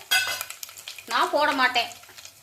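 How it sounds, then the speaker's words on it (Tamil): Mustard seeds pop and splutter in hot oil in a kadai, with a couple of dried red chillies added, for arai keerai paruppu; a burst of crackling sizzle rises midway and fades, close and fairly loud. "இப்போ கடுகு வெடிக்கட்டும்."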